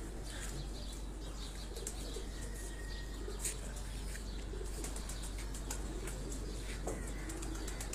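Heera laal pigeons of the Dilawar Khan line, kept in pairs with some mixed birds, sound from their loft as a steady, faint bed of soft coos, chirps and occasional wing flaps over constant background hiss.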